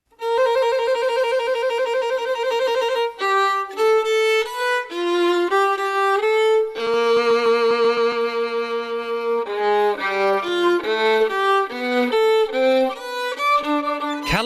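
Solo piano composition evoking Melbourne's Flinders Street, with bright repeated melodic figures over sustained bass notes, played steadily and close with no talking.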